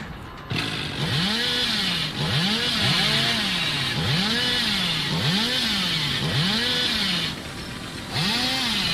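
A chainsaw revs steadily in Dead by Daylight, swelling and dropping in a regular rhythm of about one surge per second, loud and near, with only a brief dip partway through.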